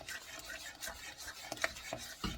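A spoon stirs thick frosting in a bowl, making soft rhythmic scraping and swishing strokes close up with a few light taps, and no talk.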